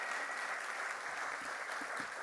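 Steady, loud applause from a festival audience after a speaker, continuous clapping throughout with no voices.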